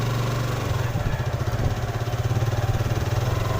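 A motorcycle engine runs at a low, pulsing rumble during a short ride. The putter is steady and moderately close, with a faint rhythmic wobble as it carries on.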